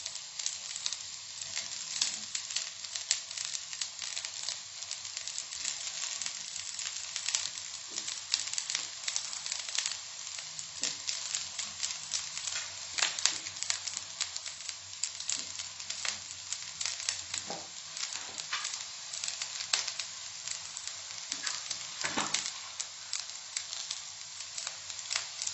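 Cooled cooked rice frying in a pan for Karnataka-style lemon rice, giving a continuous soft sizzle with scattered crackles and occasional stirring scrapes, steady and close with no talking.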